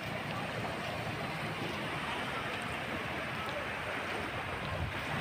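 Choppy sea waves washing steadily at a beach around sunset, a continuous broadband surge of water mixed with wind buffeting the microphone, close and fairly loud with no clear breaks.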